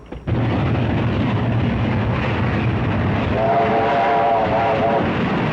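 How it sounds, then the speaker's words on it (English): A train rumbles loudly and steadily close by, a heavy continuous roar with a brief whistle-like tone partway through. "Bound train coming. On number 1 side."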